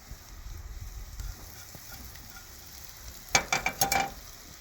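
Finely chopped onions frying and being stirred in a pan for chicken biryani, a low steady sizzle followed by a few sharp scraping stirs, close and moderately loud.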